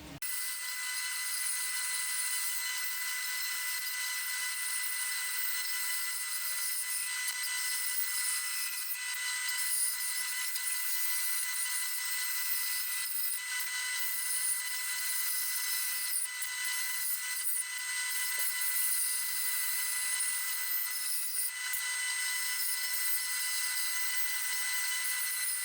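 A saw fitted with a 6mm blade at six teeth per inch cuts through a wooden guitar body, giving a steady, close, high-pitched whine that runs without a break for the whole stretch.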